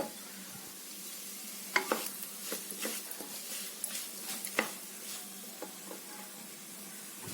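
Vegetables and asafoetida sauté for a vegetable biryani, giving a steady close sizzle with scattered stirring clicks and scrapes of the spoon against the pan.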